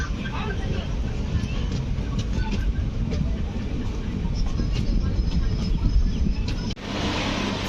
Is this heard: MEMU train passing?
yes